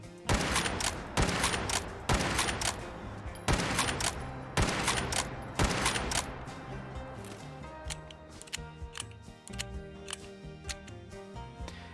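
Winchester 1873 lever-action rifle in Fallout 4, shown in a run of about six loud, evenly spaced gunshots, each trailing into metallic lever-cycling clicks, followed by softer rattling and clicking as rounds are loaded one by one.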